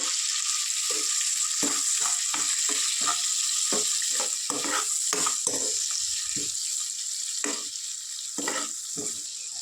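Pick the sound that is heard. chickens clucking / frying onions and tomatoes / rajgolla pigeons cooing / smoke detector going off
frying onions and tomatoes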